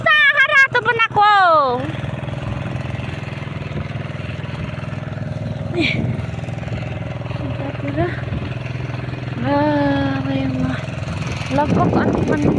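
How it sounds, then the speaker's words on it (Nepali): A tractor preparing a rice paddy field runs with a steady, close mid-pitched engine drone throughout, with people talking over it. "यो हाम्रो खेतको मेला बनाउने काम यता पुरा हाम्रो दाइले जोड्दैछ ट्र्याक्टरले"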